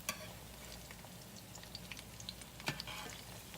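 Onion fritters frying in a pan of hot oil, with a steady close crackling sizzle and scattered pops throughout, no one speaking.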